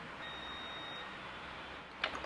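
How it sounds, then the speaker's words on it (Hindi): A multimeter's continuity tester gives a steady thin beep while probing an SMD coil from a mobile phone board, faint but continuous over a hissy background, followed by a small click. "दोनों साइड से ये बीप कर रहा है।"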